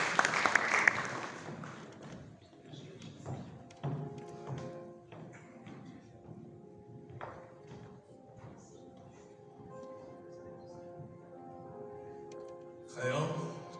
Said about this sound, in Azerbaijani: Alqışlarla aktyorumuzu qarşılayaq